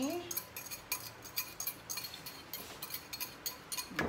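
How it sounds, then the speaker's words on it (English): Coconut oil is stirred in a bowl with a utensil while making bibingka, giving quick rhythmic clinks and scrapes of metal against the bowl, fairly close but quiet, with a voice in the background. "In another bowl, we are going to mix the coconut oil"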